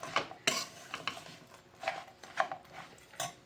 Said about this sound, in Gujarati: હવે એને આપણે મિક્સ કરતું જવાનું આવી રીતના.